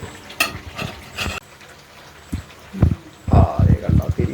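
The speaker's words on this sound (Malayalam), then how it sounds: "ഇനി നമ്മൾ ഇടയ്ക്ക് ഇടയ്ക്ക് ഇത് ഇളക്കിക്കൊണ്ടിരിക്കണം കേട്ടോ ഇല്ലെങ്കിൽ അടിയിൽ പിടിക്കും" A black chicken medicine mixture being stirred in a pan, with scraping and sizzling bursts that come in clusters, loudest toward the end, alongside a voice talking.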